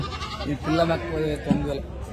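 Several goats, including a kid, bleat in wavering, close calls, one after another, with a busy outdoor background.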